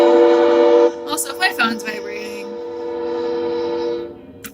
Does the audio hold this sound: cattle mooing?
no